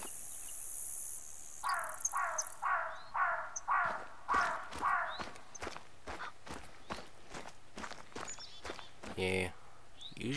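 A series of rhythmic crow caws in the hunting game theHunter: Call of the Wild repeats at a steady pace, with footsteps crunching and faint insects in the background.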